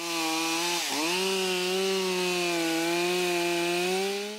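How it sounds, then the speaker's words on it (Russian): A chainsaw at a lumberjack competition roars loud and close at high revs, with a brief dip in pitch early on as it bites into a tree, then a sustained steady whine. "Пока одни работники пилы и топора валили деревья, другие на время обрезали сучья, меняли цепи и выполняли раскрежовку стволов деревьев."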